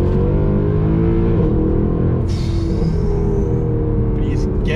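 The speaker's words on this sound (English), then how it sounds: "Cracks, pops, gear changes are ferocious, and you have the crack from the exhaust whenever you change gear as well" A Mercedes W204 C63 AMG in Sport Plus mode runs loud and close, its engine droning and revving with sharp exhaust cracks and pops on gear changes and overrun, and someone speaking over it.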